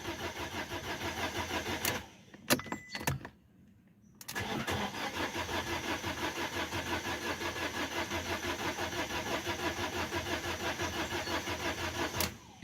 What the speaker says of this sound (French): Donc le problème de ça, c'est que la voiture, elle ne démarre pas.